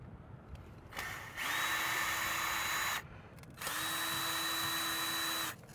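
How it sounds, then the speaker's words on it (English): A cordless drill removes stainless steel screws, two sustained whirring bursts of about one and a half seconds each with a brief pause between, close and loud, no talking. "We just bring our drill with us, and it's super simple."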